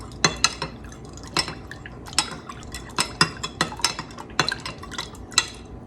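Ice cubes clatter and knock in a metal pot as it is agitated back and forth, making a close run of irregular rattling clinks and splashes without any talk.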